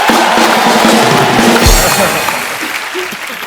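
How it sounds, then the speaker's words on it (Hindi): A burst of studio audience applause on a comedy show, loud and dense, fading slightly toward the end with some crowd noise mixed in. "जोरदार तालियां हो जाए एक बार."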